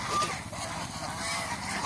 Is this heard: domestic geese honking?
yes